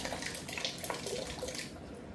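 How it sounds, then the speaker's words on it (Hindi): Water streams steadily from the outlet of an Aquasure Shield RO+UV+MTDS water purifier being serviced, a close, continuous splashing flow that tapers off near the end, with no talking. "भाई, पानी आना शुरू हो गया।"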